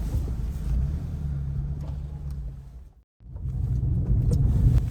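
A small buggy's engine runs with a low, steady rumble and wind buffeting the microphone, cutting out briefly for a moment before resuming just as loud.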